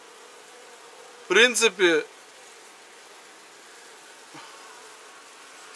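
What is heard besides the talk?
honey bees buzzing at a beehive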